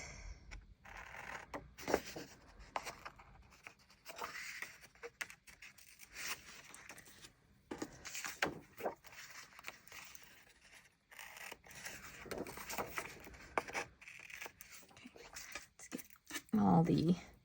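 Scissors snip paper planner tabs at close range in a quiet room, a run of soft, irregular cuts and rustles with short pauses between them.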